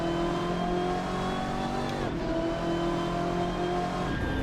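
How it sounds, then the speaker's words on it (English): Race car engine, a 2009 model in the Assetto Corsa sim at Daytona, droning steadily at high revs with sustained harmonic whine, a brief dip near the middle as if shifting, loud and close throughout. "the 2009 car doesn't sound exactly like the previous version, but it still sounds pretty damn good"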